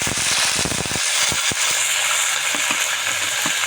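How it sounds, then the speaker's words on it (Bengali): Ginger-garlic paste frying in hot oil for a chicken roast, a loud, steady sizzle throughout with several sharp spatters and pops in the first half, no talking. "ওর মধ্যে এখন আমি আদা রসুন একবারে বেটেছি দিয়ে দেবো।"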